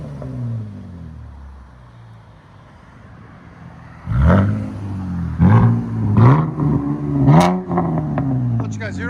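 A 2013 Cadillac ATS with a 3.6L V6 and straight pipes with an X pipe idles low, then barks through four or five sharp throttle blips, each rising and falling quickly, loud and close.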